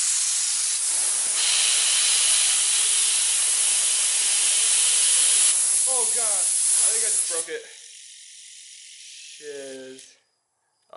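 A fidget spinner clamped in place is spun very fast, producing a loud, continuous hissing whir that holds steady for several seconds, then breaks into uneven fluttering and stops abruptly.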